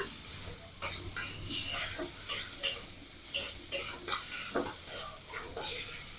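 Shrimp and pointed gourd get stirred in a hot frying pan with salt and turmeric, a spatula scraping in a steady rhythm of about a dozen strokes over a soft sizzle.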